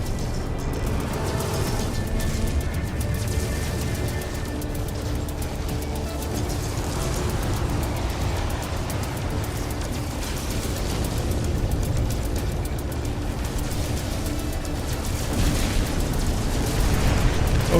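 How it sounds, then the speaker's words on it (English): An enemy missile explodes in the space game No Man's Sky, with a dense, continuous rumbling blast and booming bursts filling the whole stretch, loud and sustained with no voices. "Enemy missile inbound."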